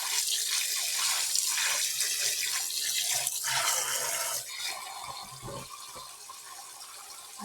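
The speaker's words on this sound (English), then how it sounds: "So I want to fill this up with some water." Tap water running steadily into a bowl at a kitchen sink, a loud continuous rushing stream close by that eases slightly in pitch and level as the bowl fills.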